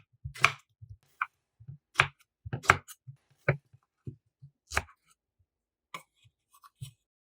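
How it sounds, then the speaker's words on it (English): A knife cuts bananas into bite-sized pieces on a board, about a dozen crisp, close chops in an uneven rhythm, with quiet gaps between them. "cut the bananas into bite-sized pieces"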